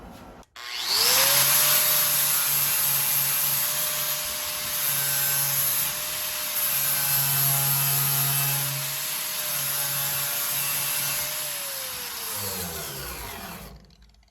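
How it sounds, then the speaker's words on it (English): An angle grinder whines steadily while grinding down a porous MIG weld bead from an Eastwood 140 MIG welder, loud and close for about twelve seconds, with the pitch wavering as the disc loads and then winding down at the end. "I'm gonna grind that down, see what it looks like."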